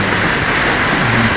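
Rain falls steadily in a loud, even hiss of drops on a surface, continuous throughout the short stretch with no voices.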